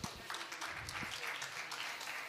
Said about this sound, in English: Let's give them a round of applause as they exit, please.